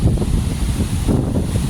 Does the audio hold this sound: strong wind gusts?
yes